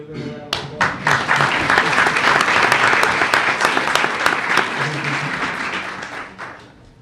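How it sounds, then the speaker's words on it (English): An audience at a board meeting claps for parents in a full round of applause that swells quickly, holds steady for several seconds, then tapers off. "Let's give them a round of applause."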